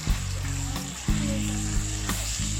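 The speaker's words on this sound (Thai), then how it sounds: "ผัดใบโหระพาเราไม่ต้องผัดนานนะครับ" Holy basil leaves being stir-fried in a Thai spicy seafood stir-fry, producing a steady close sizzle and frying crackle throughout, with occasional clinks of a spatula against the pan.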